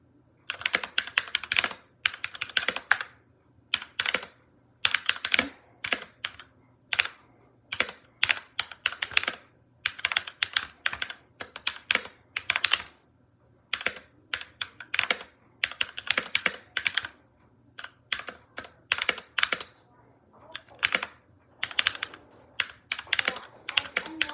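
Rapid clacking keystrokes on a mechanical keyboard during a Nitro Type typing race, close and crisp, coming in uneven bursts with brief gaps.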